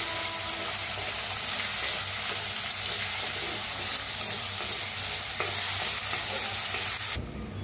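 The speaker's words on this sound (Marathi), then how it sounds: "आता मिक्स करून ना कांदा असा छान भाजून घेऊया" Onion with curry leaves fries in a pan while being stirred, a loud, dense, continuous hiss and sizzle close up, with faint stirring scrapes underneath, dropping in level abruptly near the end.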